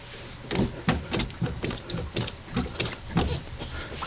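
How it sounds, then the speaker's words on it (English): Hand loosening a hose clamp on the belt-driven water pump of a ski boat, a string of sharp metallic ratcheting clicks in uneven bursts, close and fairly quiet, with no speech. "I'm going to loosen that clamp."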